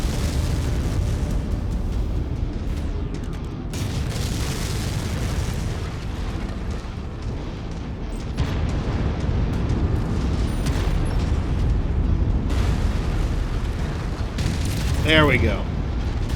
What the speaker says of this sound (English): Able to lend some indirect fire with my long-range missiles.